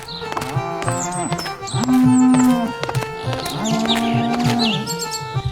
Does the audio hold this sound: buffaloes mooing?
yes